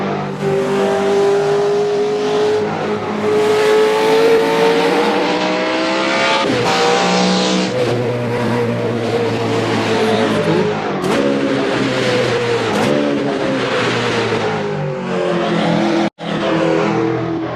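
A car driving on its bare wheel rim at speed, its engine droning loudly and steadily with shifting pitch, plus harsh scraping and squealing from the wheel, briefly cut off once near the end.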